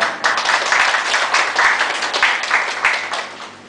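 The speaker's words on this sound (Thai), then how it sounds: "พร้อมเสียงปรบมือ" Applause from an audience at a Thai event honoring monks and their team, a dense, steady wash of many hands clapping, loud and close, with a voice speaking faintly beneath.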